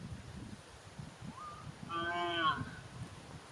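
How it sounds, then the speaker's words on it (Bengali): A calf in a village just before rain gives one drawn-out moo, faint and somewhat distant, over quiet rustling outdoor ambience with a soft earlier call. "সামনে বাছুরটি দাঁড়িয়ে কাঁদছে।"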